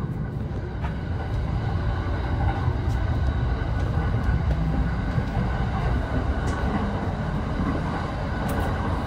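A Joban Line train runs on the up line toward Tsuchiura late at night, a steady, loud low-frequency rumble of wheels and motors filling a near-empty car for the whole stretch, with no talking.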